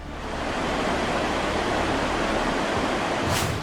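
Roaring floodwater pours down a waterfall during heavy rain flooding in Tamil Nadu, a dense, steady broadband rush that stays loud and unbroken throughout with no voices.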